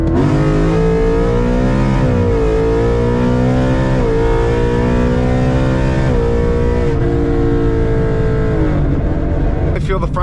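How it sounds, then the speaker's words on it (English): A Shelby Apollo sports car engine runs loud and close, rising and falling in pitch through several strong revs and accelerations, with a brief voice at the very end. "let's jump in the Apollo, start this thing up"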